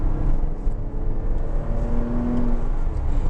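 A Porsche 987 Cayman or Boxster engine drones loudly and steadily, its pitch climbing slightly as it revs through 4,000 to 5,000 RPM, heard from inside or very close with no voices.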